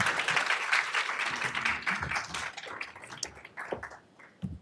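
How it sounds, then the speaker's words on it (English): Applause from an audience at a Carnegie policy conference on South Africa–U.S. relations: a burst of clapping that thins out over a few seconds into scattered, fading claps. "A round of applause for Dr. Baer."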